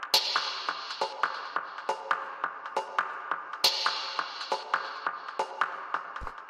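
Industrial techno percussion samples, a quick run of sharp metallic hits in a steady driving pattern, some with short echo tails, fairly quiet and with no voices.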